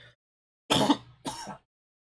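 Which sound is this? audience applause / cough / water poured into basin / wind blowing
cough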